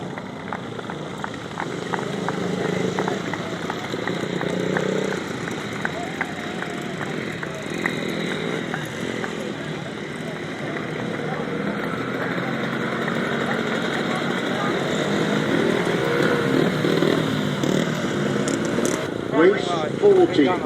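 250cc grasstrack solo motorcycles on their lap of honour at a grasstrack meeting, their engines buzzing and droning at a distance beneath a public-address announcer's voice.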